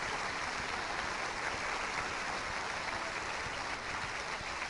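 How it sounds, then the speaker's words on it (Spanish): Steady, dense applause from a church congregation, sustained and fairly loud throughout with no pauses. "Vamos, dale un aplauso al Señor."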